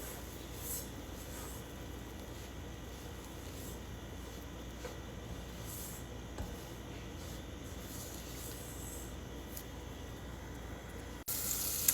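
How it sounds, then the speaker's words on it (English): Butter and light brown sugar melting in a pan and coming to a boil, giving a quiet, steady simmering hiss with faint bubbling ticks throughout, no talking. "we are just going to melt the butter and let it come to a boil"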